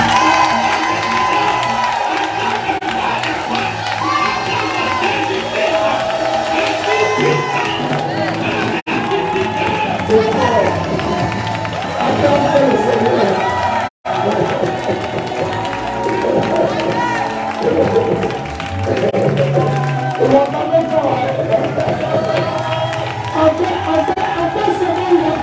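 A church congregation cheers and acclaims the Lord during a Sunday service, a dense, continuous crowd roar with shouting and clapping mixed with voices, steady and loud throughout.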